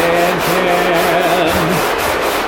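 Steady sanding on the hood of a junkyard Cadillac being prepped for epoxy, a continuous close, loud abrasive rubbing with a faint rhythmic back-and-forth pulse and no speech.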